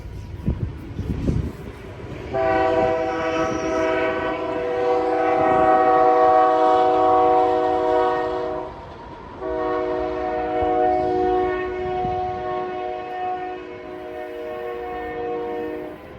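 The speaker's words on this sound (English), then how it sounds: "Here comes a train. Stand by for the whistle." A loud, sustained train horn blasts for several seconds, pauses briefly, then sounds again over the low rumble of a passing train.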